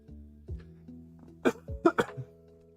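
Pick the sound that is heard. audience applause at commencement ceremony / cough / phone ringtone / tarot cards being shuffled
cough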